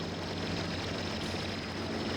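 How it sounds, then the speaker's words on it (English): A loud drone flies close by in the video game Voices of the Void, giving off a steady, dense engine drone with a constant hum and no talk. "the drone is really loud"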